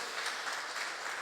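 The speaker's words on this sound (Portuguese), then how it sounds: "Você pode dar um aplauso a Jesus por isso." A church congregation applauds during a Portuguese-language youth worship service, a steady, dense wash of clapping that holds at an even level throughout the brief moment.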